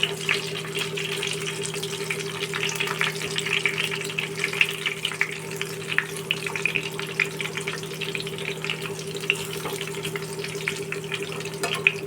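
Gram-flour battered fish frying in oil, a dense, continuous crackling sizzle with a steady low hum underneath, close and even throughout with faint pops as the pieces are turned.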